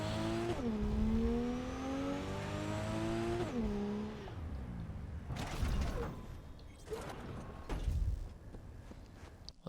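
A Coyote car from Cyberpunk 2077 drives along, its engine note rising and falling through gear shifts, loud and steady at first and then easing into rougher bursts of mechanical noise near the end.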